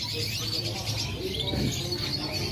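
Yellow Scotch Fancy canaries chirping at an imported-bird market kiosk in Malang, East Java, with bright overlapping twitters and trills over a steady background hum and someone talking nearby.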